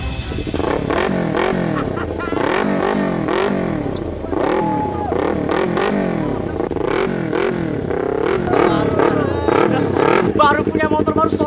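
A new motorcycle's engine runs loud and close, revving in repeated rising and falling surges with clattering mechanical noise throughout.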